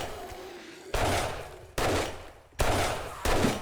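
Gunfire in the video game 7 Days To Die: four loud, close bursts of shots, roughly evenly spaced, each ringing briefly before the next.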